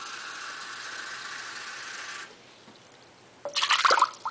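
Water pours steadily into a pot in a soft continuous hiss, stops briefly, then a sudden louder splash and spill sounds at close range.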